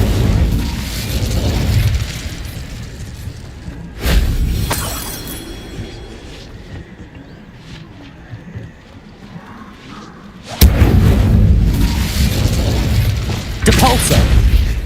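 In Hogwarts Legacy, a cast Incendio fire spell erupts with a burst of crackling flame, followed by several more loud blasts and whooshes separated by a quieter, rumbling stretch of gameplay.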